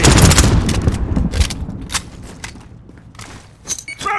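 Rapid bursts of automatic gunfire with booming shots and impacts in Call of Duty Modern Warfare team deathmatch, loud and close, thinning into scattered distant shots and thuds.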